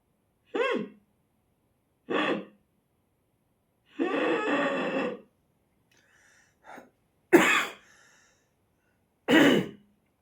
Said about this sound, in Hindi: थोड़ा मेरे को जुकाम रखा है इसलिए खांसी आ रही है